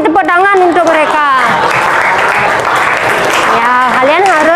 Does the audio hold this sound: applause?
yes